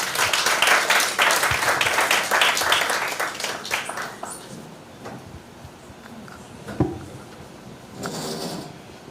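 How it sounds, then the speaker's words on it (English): Audience applause for a high school debater walking to the podium at a law week debating competition, loud dense clapping that thins out and fades over several seconds, leaving scattered claps and room noise. "Please give her a round of applause"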